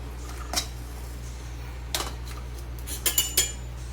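Coconut pieces stirred in hot oil in a pan with a metal utensil, several brief scraping clinks at irregular intervals over a steady low hum, close and fairly clear.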